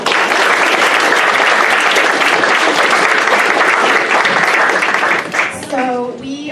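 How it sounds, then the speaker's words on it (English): Loud, sustained applause from an audience at a university innovation symposium for the pitch team St. Clements, dense clapping filling the room for several seconds before fading as a voice begins speaking. "So we can give St. Clements a round of applause."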